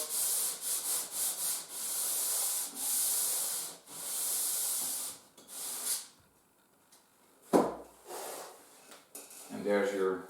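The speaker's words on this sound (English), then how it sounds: "Go over the joint with your sanding block." Repeated scratchy rubbing strokes of a sanding block on a glued balsa wood joint, steady back-and-forth rhythm, close up, then a brief knock and a short rustle near the end.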